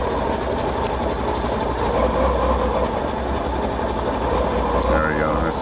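A motorcycle engine at slow, very low-RPM idle, a steady dense rumble running throughout at fairly loud level, with a brief faint tonal chirp near the end and no clear talk.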